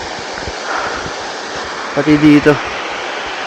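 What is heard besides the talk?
overflowing water rushing over small dam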